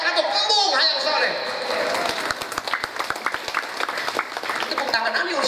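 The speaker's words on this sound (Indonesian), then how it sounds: "Tepuk tangan ani urusan ieu." Audience applause at a religious sermon gathering, clapping bursts mixed with a speaker's amplified voice over a dense crowd noise, moderately loud and steady throughout.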